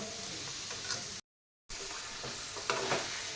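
Paneer roasting and sizzling in spice masala in a pan, a steady crackling fry with soft stirring scrapes, briefly cut to silence midway, no voices.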